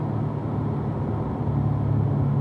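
A car engine hums as a steady low rumble on a performance driving track, holding a constant droning tone while picking up speed, with no clear gear change heard.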